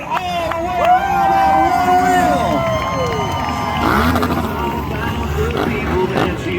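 A big crowd cheers and roars in the grandstands at a demolition derby as a school bus does a wheelie through the turns, steady loud cheering and whistles with an announcer's voice booming over the arena.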